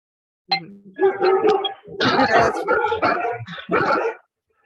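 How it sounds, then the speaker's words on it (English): Several dogs bark and yip in short overlapping bursts, fairly close and loud, a busy chorus lasting a few seconds with brief gaps. "Dogs."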